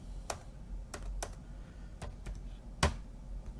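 Keys on a computer keyboard being pressed to enter a contract number: about seven sharp, separate clicks at an uneven pace over a low, steady room hum, with one louder final keystroke like an Enter press. No one speaks.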